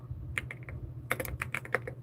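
Quick bursts of keystrokes on a computer keyboard, close and crisp, arriving in uneven clusters as names are typed live over a low steady hum.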